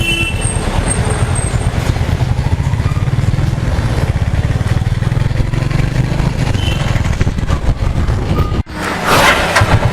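A Royal Enfield Classic 350 motorcycle is ridden on Hyderabad roads, its steady thumping engine loud and constant for most of the ride, then dipping briefly before surging again amid wind rush.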